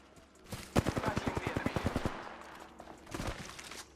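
A Flatline assault rifle in Apex Legends fires a steady automatic burst of about a dozen quick, close shots. A shorter burst follows after a brief pause.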